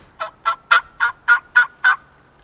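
Seven evenly spaced wild turkey hen yelps, clear and close, delivered in a steady rhythmic series with no other sound around them.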